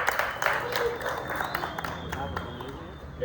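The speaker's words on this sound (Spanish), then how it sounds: "Un aplauso por favor para las personas que van a sentar." Faint, scattered applause from an audience at a dance-community panel talk rises and fades over a few seconds, with a voice speaking over it.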